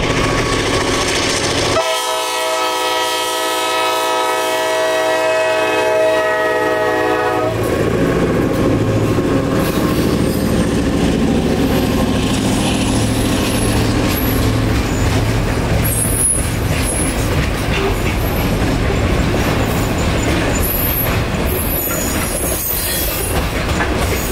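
A U.S. Sugar Railroad train passing a crossing, with a long loud horn blast at the start followed by a steady rumble of rolling cars and wheel noise. The sound is close and continuous throughout.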